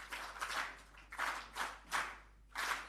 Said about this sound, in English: Can we give another round of applause, please, for this panel?